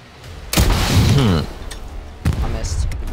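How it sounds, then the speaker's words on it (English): Heavy gunfire striking a tank in a combat video game, with a loud booming burst followed by a second impact, under voices speaking and radio chatter. "Tank is under fire."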